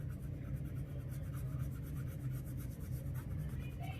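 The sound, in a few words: watercolor pencil lightly rubbing on paper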